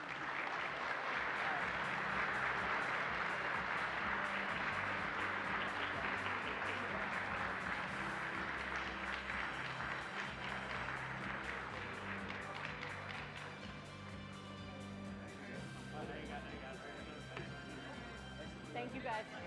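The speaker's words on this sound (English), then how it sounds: "let's give this year's class a round of applause." An audience at an awards luncheon claps in a long, full round of applause that gradually thins out, with voices becoming audible as it fades.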